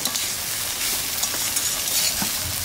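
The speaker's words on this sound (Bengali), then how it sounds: "পেঁয়াজটা একটু ভেজে নিয়েছি" Onion frying in a pan for onion paratha, a continuous close sizzle with scattered crackles and light stirring scrapes, no voices.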